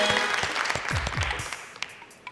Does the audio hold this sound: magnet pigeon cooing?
no